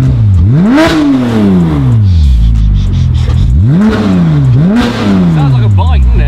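A modified Porsche GT3 revs hard with its exhaust valves open, two loud rising and falling sweeps of engine roar close by with crackle between them.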